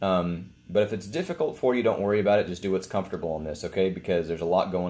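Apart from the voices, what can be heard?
No everyday noise stands out behind the speech.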